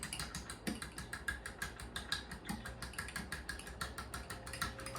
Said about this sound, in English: Whisk it all up, make sure the egg yolk gets all broken up.